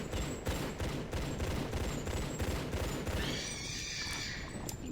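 Pistol gunfire in the Tomb Raider level editor game TRLE Redemption: a fast run of sharp repeated shots for about three seconds, followed by a fading ringing tail.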